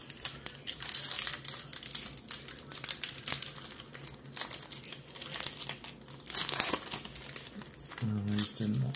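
Disc golf relic card packs being torn open by hand: close, continuous crinkling and ripping of foil wrappers in quick bursts, with a person speaking briefly near the end.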